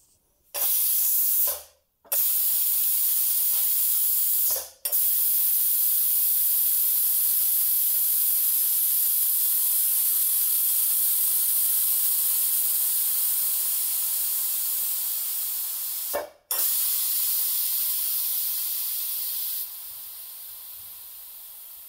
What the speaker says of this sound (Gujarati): તો હવે આપણે આને પ્રેશર કાઢી લેશું.